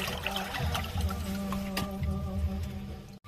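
Irrigation water rushes through a sluice into a paddy field in a village, a steady, close gushing flow with a hollow ringing tone that runs unbroken before stopping abruptly.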